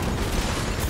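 A rocket launcher blast in the video game Uncharted: Drake's Fortune makes a dense, loud roaring rumble that fills the whole brief moment, heavy and continuous, with no voices over it.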